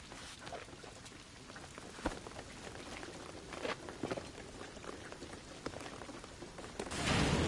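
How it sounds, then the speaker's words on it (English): Steady rain falls in the Tomb Raider video game, a dense pattering hiss of drops on surfaces with scattered louder splats, continuous throughout and swelling slightly at the end, no voices. "What I'm telling you is the rain is gonna flood it."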